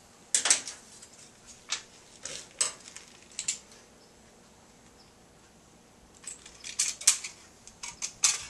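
Scissors snip through a thin aluminum soda can in sharp, crisp metallic cuts, a cluster of clicks, then a quiet pause, then another quick series of snips close by.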